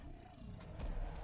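A troll in the Valheim survival game lets out a low, rumbling roar, faint and distant, swelling briefly over a dull ambient background.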